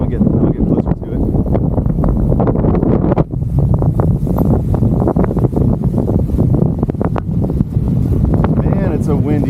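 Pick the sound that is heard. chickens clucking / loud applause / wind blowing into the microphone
wind blowing into the microphone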